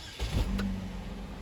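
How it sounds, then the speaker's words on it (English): A Saturn Vue with a flashing check engine light starts up with a quick, quiet crank that settles into a low, steady idle hum. "let's go ahead and start the vehicle up."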